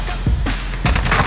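Gunfire in the Call of Duty Warzone video game: two loud bursts of shots, one near the start and another about two-thirds through, each ringing out broadly over a steady background rumble.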